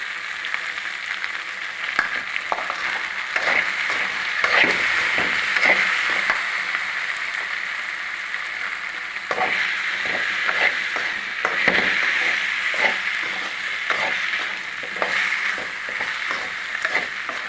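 Masala of spices, onion and other aromatics sautés in a pan with a steady moderate sizzle, broken by repeated clattering spoon strokes as it is stirred and mixed.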